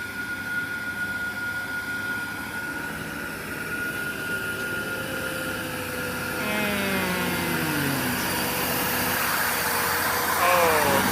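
An Isuzu Rocky truck labors in low gear up muddy, rain-soaked ground, its engine droning steadily at a distance with a rising whine near the end, under faint background voices.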